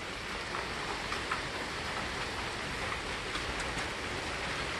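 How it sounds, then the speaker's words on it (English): Steady rain falls close by with a dense, even hiss that holds at one level throughout and carries no voices. "It's raining."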